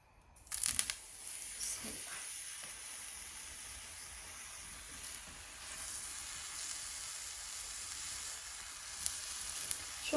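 Thick-sliced eggplant and tomato fry in a hot pan. A steady, soft sizzle carries on alone at a moderate level for the whole stretch, with a few louder crackles near the start.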